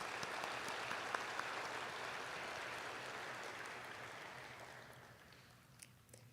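An audience at a student honors ceremony claps steadily in a hall, a continuous wash of applause at moderate distance that gradually thins and fades out.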